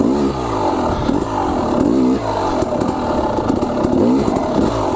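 An enduro motorcycle slows under clutch, throttle and brake, its close, loud engine burbling and rising and falling in short blips with some mechanical clatter; no talking.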